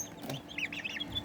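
Tiny Serama bantam chicks, about one to two weeks old, give a few quick high-pitched peeps and chirps close by, quiet against a soft indoor background.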